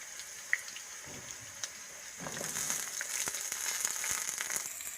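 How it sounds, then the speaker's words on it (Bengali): Drumstick pieces frying with potatoes in a pan for a Bengali vegetarian curry, a soft, steady sizzle that grows a little louder partway through, with faint scattered clicks. "এখন সজনের ডাঁটাগুলো দিয়ে আলুর সাথে আরও কিছুক্ষণ ভেজে নিচ্ছি"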